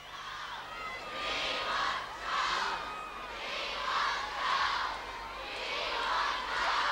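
A large street crowd in Wales in 1981 cheers and calls out in rolling waves for the Princess of Wales, a steady roar of many voices with no single speaker standing out.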